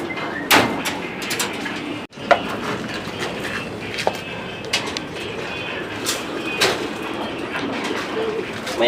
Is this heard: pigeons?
yes